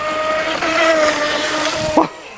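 A UDIRC Arrow 5 RC speedboat whines as it corners on the water, its high electric motor tone steady and fairly close before cutting off abruptly near the end.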